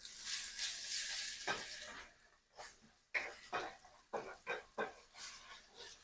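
Ginger garlic paste sizzling as it is stirred and fried in a pan for chicken lababdar, a steady close hiss early on giving way to bursts of spatula scraping and crackle.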